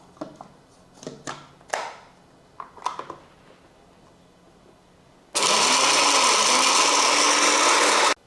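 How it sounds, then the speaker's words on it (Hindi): An electric grinder pulverising roasted whole spices for seekh kabab masala, starting abruptly after a few clicks and handling sounds and running loud and steady for about three seconds before stopping. "तमाम मसालों को हमने ये ग्राइंडर में डाल लिया,"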